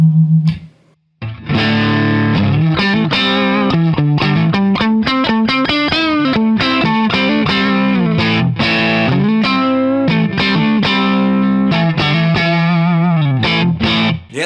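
Electric Partscaster guitar with homemade refrigerator-magnet pickups, played in the middle pickup position through distortion: a continuous loud run of chords and picked notes with quick rhythmic stops, with no talking.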